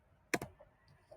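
Two quick keystrokes on a computer keyboard, close and quiet, followed by a couple of fainter clicks in an otherwise still room.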